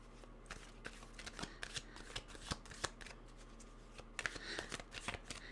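Tarot cards are shuffled close up in a quiet room, a soft, irregular series of riffling flutters and light snaps over a faint steady hum.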